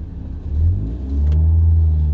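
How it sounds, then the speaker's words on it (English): A turbocharged Audi TTS engine revs loud and close from inside the car, a deep rumbling drone that swells and holds steady as it pulls away, with no talking. "It just sounds typical sort of Audi turbocharged car."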